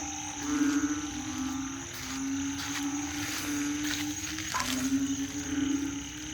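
Narrow-mouthed frogs croaking at night in a wet field in Rayong, Thailand, a chorus of long droning calls repeating steadily, fairly close, with a high insect whine in the background.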